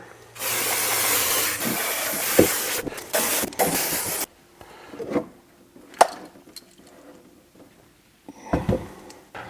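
Bursts of carb cleaner spray hissing in several long blasts onto a Jeepster carburetor, close up, followed by quieter handling clatter and a few short spurts.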